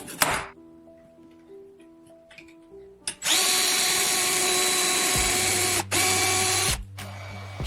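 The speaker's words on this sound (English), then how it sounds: "Cut off the handle from a toothbrush and drill a hole in the center." A power drill bores a hole through the center of a cut-off toothbrush handle, whirring loudly and steadily for about three seconds with a brief stop, after quiet clicking handling sounds.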